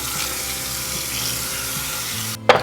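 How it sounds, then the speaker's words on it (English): Tap water runs steadily into a pot of washed pinto beans, a continuous broadband rush that carries on unchanged and then cuts off sharply near the end with a brief clatter. "let's fill this up with about, I don't know, a couple inches of water over the top"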